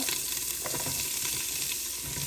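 Chopped red peppers and onions hit hot oil for an American goulash, a dense continuous sizzle with faint stirring clatter and no talk.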